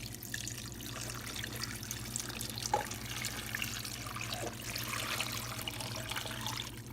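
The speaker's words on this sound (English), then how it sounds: "So I'm going to pour this in the pot." Beef broth made from bouillon cubes and water is poured into a pot for oxtail stew, a steady soft splashing trickle heard close and alone for several seconds.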